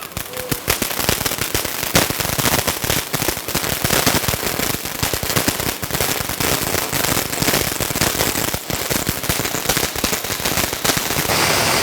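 An Android-brand firecracker bursts in a rapid, continuous barrage of loud cracks and pops for about twelve seconds, dense and close throughout.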